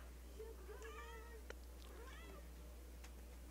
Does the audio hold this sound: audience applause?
no